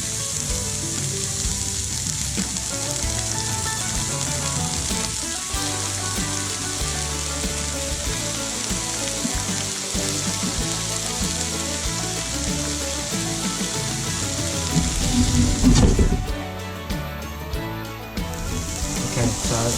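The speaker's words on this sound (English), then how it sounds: "Now while that pan is still hot, I'm going to put the onions in there and we're going to wilt them down." Onions frying in a hot pan while cooking onion gravy for bangers and mash: a steady, close sizzle runs throughout and swells briefly louder near the end.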